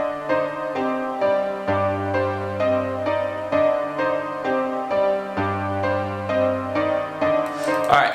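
A synth melody played in reverse, each note swelling in and cutting off abruptly, in a steady looping pattern with a sustained bass line underneath.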